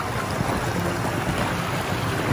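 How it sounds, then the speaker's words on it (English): A stream flows at the Ice Village at Hoshino Resorts Tomamu, giving a steady, close rushing wash of water heard alone, with no voices. "You can hear the water."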